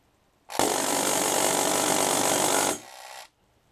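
A 4,000 RPM motor spinning a prototype magnetic auger for a Drozd Blackbird, a loud steady mechanical whir that starts abruptly, holds evenly for about two seconds, then drops to a quieter tail before cutting out.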